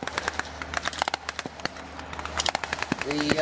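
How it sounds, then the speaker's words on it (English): A German 75mm pack anti-tank gun fires at a World War Two reenactment at Hop Farm, England, amid a rapid crackle of many sharp reports and bursts of gunfire, loud and near, with engine rumble building toward the end. "The anti-tank gun, German anti-tank, 75mm pack anti-tank unit, opening fire on the withdrawing US forces."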